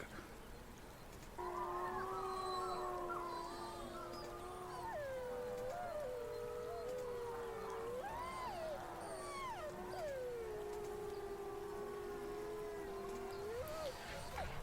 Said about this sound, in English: in the distance you hear the sound of howling